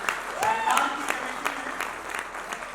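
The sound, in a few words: audience applause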